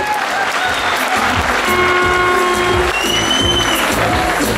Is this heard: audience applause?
yes